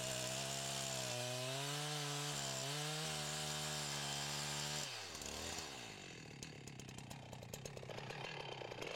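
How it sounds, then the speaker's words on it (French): Chainsaw sawing through the remaining hinge wood while felling a broadleaf tree, a loud steady engine whine that shifts pitch as the chain bites, then turns rougher and more broken near the end. "puis il scie avec précaution jusqu'au bois restant."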